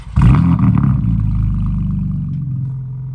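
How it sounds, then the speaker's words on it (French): A BMW M3 G80 xDrive fitted with a downpipe and map tune fires up with a loud starter catch and sharp rev flare, then settles into a throbbing, burbling idle close by. "je vais te démarrer pour que tu écoutes le son"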